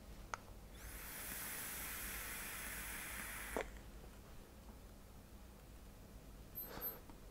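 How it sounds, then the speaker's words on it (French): Vapor exhaled from a GeekVape Avocado vape running at about 28 watts makes a long, soft, steady breathy hiss lasting a few seconds, close and quiet, with faint clicks and a short second puff after it. "Belle production de vapeur."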